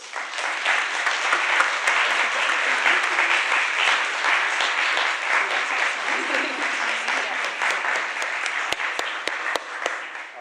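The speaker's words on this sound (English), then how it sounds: "So let's give them a massive round of applause." A crowd at a book launch on violence reduction gives a big round of applause, a dense, continuous roar of clapping lasting about ten seconds, with a few sharper individual claps near the end.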